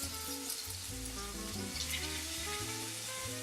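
Steaks sear in a hot pan, salt and pepper side down, giving a steady, close, broadband sizzle and crackle that continues unbroken with no voices.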